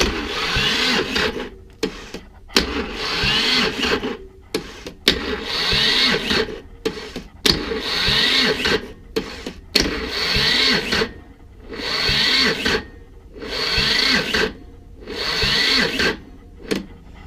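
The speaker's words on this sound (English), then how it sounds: "as soon as I touch this little wire to the power, it'll crank over" Lister Petter LPWS2 diesel engine being cranked over by its starter, a strained, rhythmic whirring in repeated bursts of roughly a second each, separated by short pauses, loud and close with no talking.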